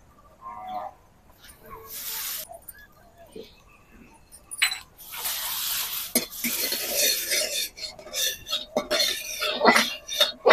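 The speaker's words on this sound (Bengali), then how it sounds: "এবার আমি কড়াইয়ে দিয়ে দিচ্ছি 1 চামচ দেশি ঘি।" A spoonful of desi ghee goes into a wok, followed by scattered metallic scrapes and clinks of a spoon stirring, soft at first and then busier and louder toward the end, with no talking.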